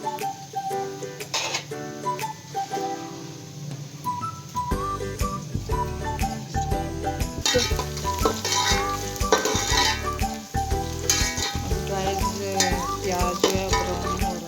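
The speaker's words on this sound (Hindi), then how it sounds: "प्याज जो है ब्राउन हो रहा है। अच्छे से आपने हिलाते रहना है ताकि जो है प्याज जल ना जाए।" Sliced onions fry and brown in hot oil in a home kitchen pan, a steady loud sizzle broken by repeated scraping stirs of a spoon against the pan, with no voices over it.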